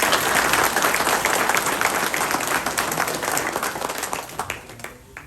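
Loud, dense applause from an audience at a spring-season sales event, filling the hall and thinning slightly toward the end.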